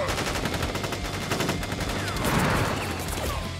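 Troops firing guns together in Crisis Core Final Fantasy VII Reunion, a loud sustained burst of rapid automatic fire with crackling impacts and a swelling rumble, then whizzing sounds near the end, without voices.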